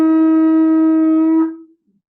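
A shofar sounds a tekiah, one long steady blast held for about a second and a half before tapering off, loud and close with no talking.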